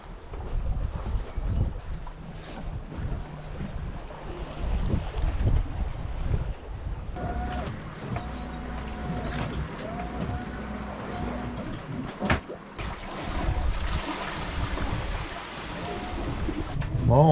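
Steady wind and water wash around a sailboat moving gently on the Atlantic Ocean in light wind, with low rumbling hull noise and occasional creaks over a continuous breezy hiss.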